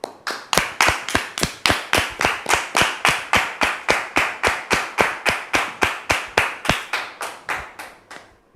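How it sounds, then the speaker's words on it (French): A crowd claps in steady unison, about three crisp claps per second, continuing for several seconds before slowing at the end. "Nous le recevons sous vos applaudissements, s'il vous plaît"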